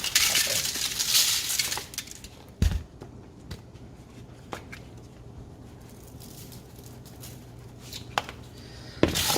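Sweet potato salad being tossed with olive oil, garlic, kosher salt and pepper: soft clinks, taps and shuffling in a bowl, with a brief rustling burst at the start and scattered sharper knocks.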